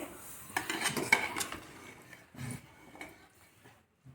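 A spoon stirs chicken dum biryani in a metal pot, giving scraping clinks and clatter in short bursts that grow sparser and quieter toward the end, with no talk.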